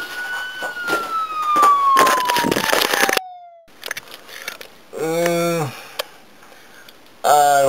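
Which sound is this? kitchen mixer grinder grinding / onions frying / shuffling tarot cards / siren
siren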